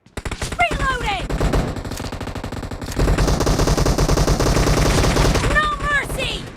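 Rapid shotgun blasts in a warehouse shooter game fire in dense, loud volleys throughout, with voice callouts mixed in among the shots.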